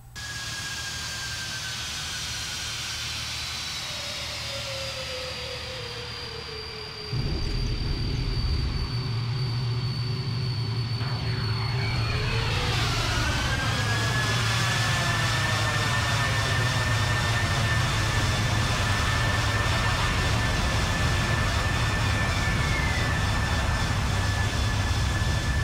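A passenger airliner lands at Kansas City International Airport after a flight from Colorado Springs, heard from inside the cabin: a loud, continuous engine roar and whine that jumps in level partway through, then shifting, sweeping tones as thrust changes.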